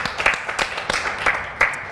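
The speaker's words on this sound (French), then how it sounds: "On applaudit pour la Madame clame." Studio audience on a television talk show clapping in a brief, uneven burst of applause, moderately loud with scattered distinct claps.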